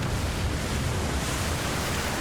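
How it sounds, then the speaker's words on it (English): Water rushing and pouring into a flooding underwater room beneath the Black Lake in the video game Hogwarts Legacy, a steady, loud, broadband roar of surging water that continues without break and with no voices. "considering all the water pouring in"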